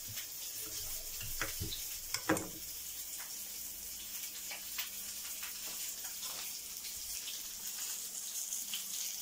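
Chicken sizzling in a pan with garlic and a bouquet garni of fresh thyme and bay leaf, a steady frying hiss with a few sharp clinks and scrapes near the start.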